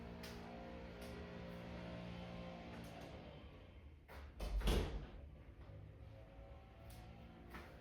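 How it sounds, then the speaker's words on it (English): A door swings shut with one muffled thud in the middle, over a quiet room with a steady low background hum and a few faint clicks. "let me close this motherfucking door"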